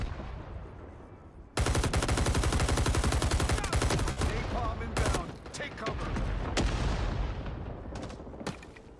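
Heavy gunfire and explosions from a napalm strike and rockets in a video game, a sudden loud onset followed by sustained rattling bursts and booms that taper unevenly.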